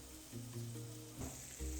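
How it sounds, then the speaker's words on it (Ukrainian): Soft, steady sizzling of sliced zucchini and garlic frying in oil in a pan, quiet and close, with a faint low hum beneath. "На розігріту сковорідку наливаю олію, кладу два зубчика часника і додаю нарізані кабачки"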